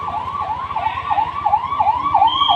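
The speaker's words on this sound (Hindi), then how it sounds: "एम्बुलेंस आ रही है" An ambulance siren approaches during a civil defence drill, a loud, rising and falling wail repeating steadily with an engine rumbling beneath it; no one talks.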